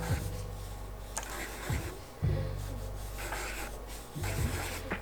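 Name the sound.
pen sketching on a sketchbook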